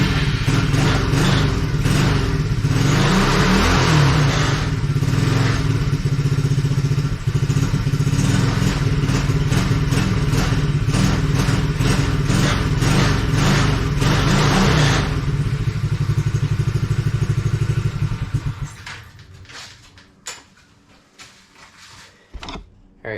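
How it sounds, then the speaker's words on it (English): A Coolster 110cc engine, run again after sitting unused for two years, revs loud and close with a steady, buzzy drone for about eighteen seconds before dying away into quiet clatter. "Alright, so it revs out just fine."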